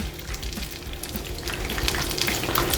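Fish sizzling and crackling steadily in very hot oil while being made into fish and chips, a dense continuous fry noise close up with no talking.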